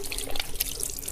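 Water poured over the forearms during ablution, a short close splashing and trickling with dripping, steady and fairly loud.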